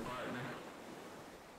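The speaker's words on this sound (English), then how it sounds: "I just have like a 6 minute long ocean background sound effect audio pulled up" Looped ocean wave sound effect plays softly in the background, a faint, even wash of surf noise, with a voice speaking over it.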